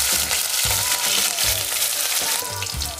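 Cumin seeds, chilies and garlic sizzle in hot oil for dhaba-style gobi masala. The crackle is loud, dense and close, and irregular stirring thumps sound underneath.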